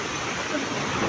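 Heavy rain in a storm with wind pours as a dense, steady hiss, close and loud throughout this short moment, with no talk over it.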